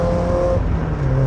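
A close car exhaust with a Cobalt aftermarket exhaust system blips and drops in pitch as the engine revs briefly during a rev-matched downshift, loud and throaty for about a second.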